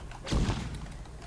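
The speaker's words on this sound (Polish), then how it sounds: "Flashbang!" A flashbang grenade going off in Call of Duty Black Ops, a single close, heavy thud-like blast with a short rumbling tail.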